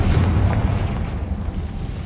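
A Confringo blast spell explodes in a Hogwarts video game: a deep, rumbling boom with a broad roar that stays loud and steady for about two seconds, with no voices.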